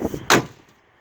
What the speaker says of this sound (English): if you listen, you'll hear the door shut.